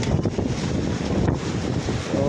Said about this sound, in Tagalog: So sitwasyon ngayon medyo mahangin